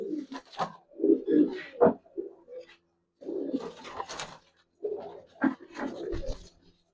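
Old-breed Giribaz pigeons coo in three close bursts of throaty, rolling calls separated by brief pauses.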